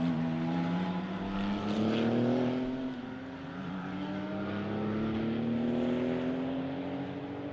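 Aston Martin GT4 race cars at a member challenge race, a steady engine drone with a slowly rising pitch as a car passes, heard fairly close and without talk.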